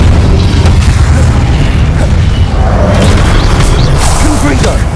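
The Incendio fire spell is cast in the Hogwarts Legacy video game amid combat, with loud booming bursts and whooshing effects over a dense, constant low rumble.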